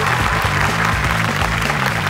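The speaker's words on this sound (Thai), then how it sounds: "ขอเสียงปรบมือดังๆเลย" An awards show audience applauds in dense, steady clapping that fills the whole moment, loud and continuous with no pauses, over a low sustained musical hum.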